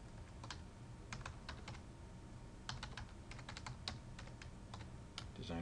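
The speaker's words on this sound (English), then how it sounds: "we'll type in a valid email address" Keys clatter on a computer keyboard as an email address is entered, a quick, uneven run of light clicks in short bursts, close by over a faint room hum, with no talking.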